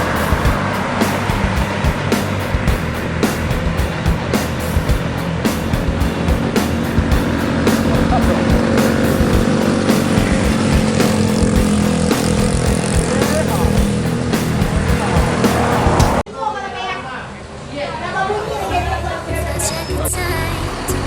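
An ANS intercity bus arrives at the Solo west bus terminal, its loud diesel engine rumbling close and steady before cutting off abruptly, leaving quieter terminal ambience behind.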